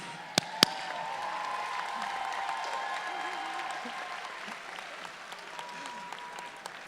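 Audience at a Berkeley City College commencement keynote clapping along, a steady spread of hand claps at moderate volume with a couple of sharp louder claps near the start and murmuring voices mixed in.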